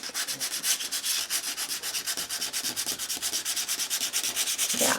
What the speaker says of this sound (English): the texture paste responds nicely to the sanding